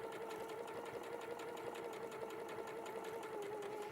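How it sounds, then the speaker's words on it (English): Sewing machine running continuously while stitching all the way around a piece of quilted fabric, a steady, fairly quiet mechanical hum with a faint rapid rhythmic ticking throughout. "So I'm just going to sew all the way around here."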